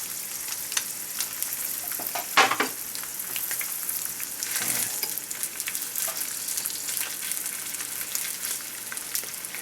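SPAM frying in a carbon steel pan gives a steady, moderately quiet sizzle and crackle, with a brief louder scrape or splash of stirring partway through.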